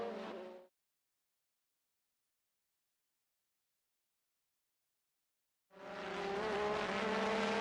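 1980s Formula 1 race cars at a British Grand Prix, with Pironi overtaking Mario Andretti: two brief bursts of loud, close engine roar separated by several seconds of silence.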